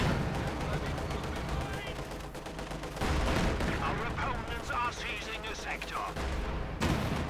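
Tank and artillery fire in Company of Heroes 2, Soviet T-35 tanks pounding German Panzer units, with dense overlapping bursts and booms running continuously through the battle and a sharp fresh barrage near the end.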